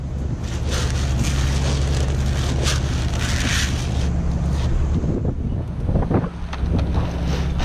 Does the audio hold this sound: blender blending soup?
no